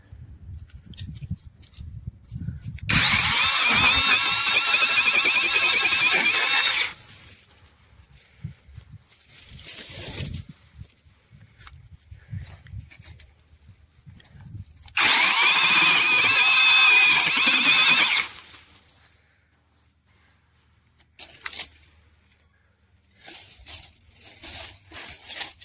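A TREXEEN cordless mini chainsaw running on a Milwaukee M18 battery cuts into an old shrub in two loud, close, high-pitched bursts of several seconds each, separated by quieter stretches with lighter handling noises.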